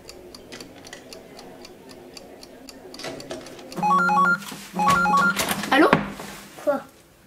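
In the Nintendo Switch game 1-2-Switch, steady ticking gives way to two bursts of a beeping phone ringtone, followed by a brief swooping electronic sound.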